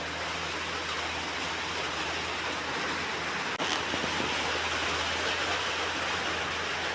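Rain falling outside a home, a steady even hiss of rainfall that stays constant throughout with a brief knock partway through, with no one talking.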